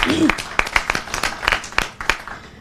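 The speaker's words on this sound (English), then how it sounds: "Give a round of applause to that one." A handful of sharp, scattered claps from a small audience at a women's leadership event, irregular and sparse, with a brief voice at the start.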